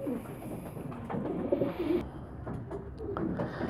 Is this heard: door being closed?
no